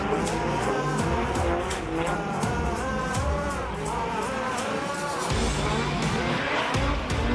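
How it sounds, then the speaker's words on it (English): A Nissan drift car at a drifting competition slides with tires squealing over a loud, continuous engine that rises and drops as the throttle is worked, close and without voices. "This is superb drifting."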